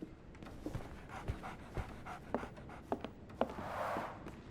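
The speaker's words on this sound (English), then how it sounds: "So, Barnes has a dog now." A dog in the video game Sherlock Holmes The Awakened pants quickly and rhythmically nearby, with soft snuffly breaths and a few light taps between them.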